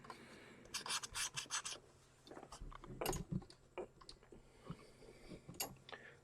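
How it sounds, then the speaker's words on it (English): Quick scraping strokes come in a rapid burst as the edge of a whitemetal model kit part for an LB&SCR K Class locomotive is polished, followed by scattered softer rasps and clicks, close and quiet. "I'm just polishing up along the edge here."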